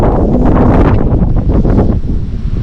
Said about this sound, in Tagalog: So grabe yung hangin, ang lakas, oh, hangin.